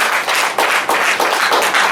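A church congregation claps together during a prayer service, a dense, loud run of rhythmic applause in several surges, with no talking.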